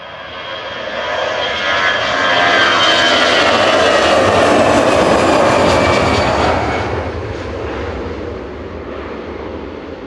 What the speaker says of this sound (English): Super smooth that, Thierry. The takeoff, not your panning.